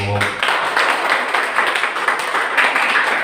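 A church congregation claps during a Sunday worship service, with dense, steady applause filling the room for a few seconds.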